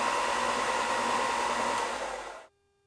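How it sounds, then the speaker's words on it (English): An electric sander runs with a loud, steady whirring hiss for about two seconds, then winds down and stops abruptly, leaving near silence. No voices. "That's with the boom microphone and the sander running."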